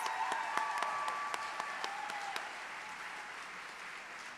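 A crowd applauds steadily for a graduating class at an awards ceremony, a dense wash of clapping that gradually thins and fades, heard at a moderate distance.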